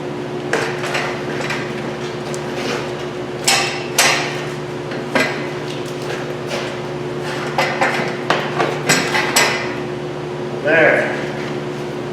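A hammer strikes metal under a Mazda Miata MX-5 during clutch replacement work, landing irregular sharp blows near a suspension bushing over a steady background hum.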